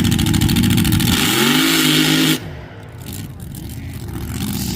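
A very loud drag race car engine revs hard at an ice drag strip, a sustained roaring rev that cuts off abruptly and drops to a lower rumble before building again, close up.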